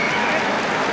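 A boxing crowd cheers and roars in a dense, steady wall of noise at the Lennox Lewis v Glenn McCrory fight, with a commentator's voice running over it.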